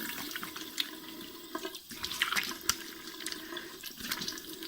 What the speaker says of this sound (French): on va rincer dans le tiède.